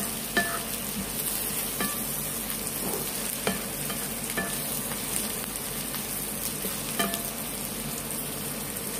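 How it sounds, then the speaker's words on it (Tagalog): Chili frying in a pan while cooking chicken breast in coconut milk with mixed vegetables, giving a steady close sizzle with occasional crackling pops and stirring scrapes, with no voices. "Para mas lumasa yung anghang niya, iprito muna natin ang chili."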